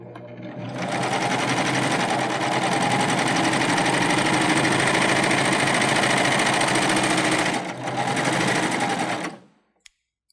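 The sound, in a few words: Baby Lock Euphoria cover stitch machine sewing lightweight jersey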